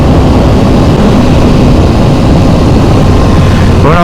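A KTM 790 Duke motorcycle engine roars loud and close, a dense continuous growl that climbs in pitch right at the end as the revs build; no voices.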